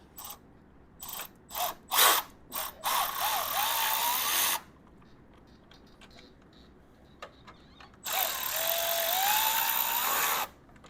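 Ratchet wrench clicking while removing two 5mm bolts from the fork brace of a Honda GL1500 Goldwing motorcycle, with short bursts of rapid ratcheting followed by longer continuous runs, close up and loud.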